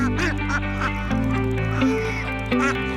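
Ducks quack repeatedly on a free-range farm where they have a designated egg-laying area, with loud, overlapping calls close by over a steady background hum.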